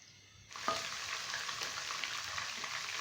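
Ginger garlic paste drops into hot oil and breaks into a loud, continuous sizzle, close and steady after a quiet start, with faint stirring.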